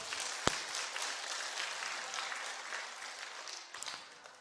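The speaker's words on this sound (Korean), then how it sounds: "박수 한번 쳐주세요." Church congregation clapping in a brief, faint round of applause with one sharp clap near the start, heard at a distance.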